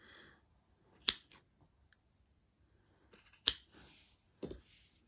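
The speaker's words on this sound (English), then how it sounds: "And then I'm going to snip the bottom ends." Scissors snip the bottom ends of macrame cord on a small Christmas tree decoration, a few sharp close-up cuts separated by quiet pauses, with one quick double snip.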